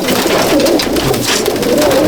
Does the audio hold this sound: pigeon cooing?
yes